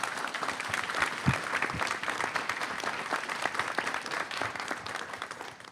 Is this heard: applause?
yes